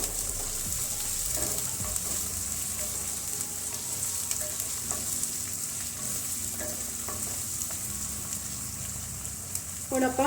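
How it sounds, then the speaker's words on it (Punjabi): Onions frying in a pan for a Punjabi vegetable dish, a steady bright sizzle throughout with occasional stirring scrapes and clinks, fairly close and alone. "ਪਿਆਜ਼ ਪਾ ਕੇ 2 ਮਿੰਟ ਵਾਸਤੇ ਪਿਆਜ਼ ਨੂੰ ਆਪਾਂ ਭੁੰਨ ਲਵਾਂਗੇ"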